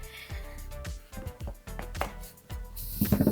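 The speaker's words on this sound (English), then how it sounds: "Where the neck ends, it's where I like to slice it." A kitchen knife chopping through raw butternut squash on a cutting board makes a series of irregular, close, crisp thuds and knocks. Several quick strikes come near the end, with no talking.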